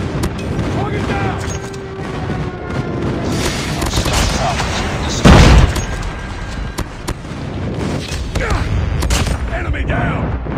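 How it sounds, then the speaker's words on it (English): Airstrike blasts and gunfire in the mobile shooter Call of Duty Mobile on the Hardpoint mode's Shipment map, a steady roar of rapid shots with one heavy booming explosion midway, loud and dense, with game voice callouts mixed in. "Friendly airstrike incoming."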